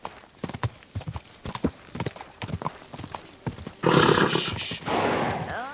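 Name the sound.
horse galloping, from video game Kingdom Come Deliverance II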